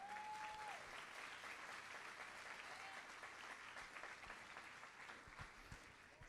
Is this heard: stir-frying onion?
no